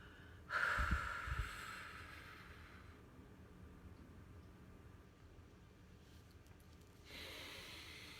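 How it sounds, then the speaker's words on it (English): A full, deep exhale through the nose, breathy and close, rising sharply near the start and fading over a couple of seconds, followed by quiet room tone and a faint later breath. "I want you to start with a full, deep exhale."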